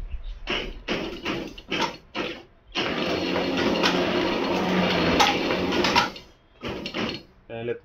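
Delivery plate of a Swifts Minitec offset printing press slid forward, a run of close mechanical clicks and ratcheting knocks, then a sustained grinding rattle before more clicks.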